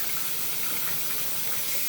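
Cold tap water runs into a bathroom sink in a steady, even hiss that continues without a break.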